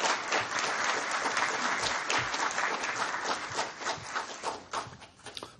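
A lecture audience applauds to welcome a speaker, with dense, steady clapping that thins out and fades over a few seconds.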